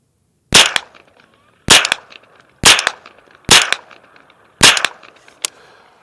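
Six sharp gunshots fired through a White Label Armory Hot Link suppressor ring out at outdoor range, spaced about a second apart, each crack followed by a short echoing tail.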